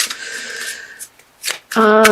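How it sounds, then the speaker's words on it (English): Tarot cards shuffled by hand, a few soft riffling bursts with short pauses, ending in a brief louder voice or tone; close and clear. "So I feel like these want to be shuffled."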